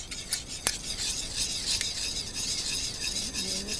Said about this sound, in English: Mix lang natin ito.